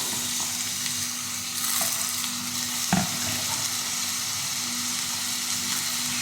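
Pumpkin leaves frying in hot oil in a pan, a dense continuous sizzle with a low steady hum beneath and one sharp stir or clank near the middle; nobody speaks.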